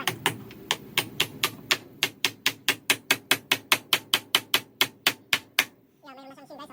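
Steady hammering of nails into a wooden door frame during lower-level home construction, a long run of about two dozen sharp, evenly spaced blows up close, followed by a brief scraping rustle.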